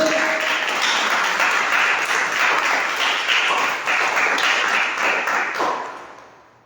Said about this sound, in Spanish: Den un fuerte aplauso a Él.